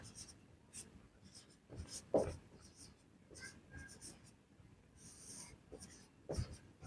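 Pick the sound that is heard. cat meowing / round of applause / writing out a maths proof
writing out a maths proof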